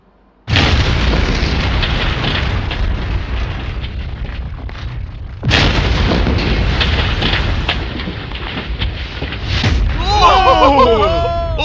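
Two massive booming blasts erupt in succession as a yacht explodes, each followed by a long roaring rumble, with faint high whistling sounds near the end.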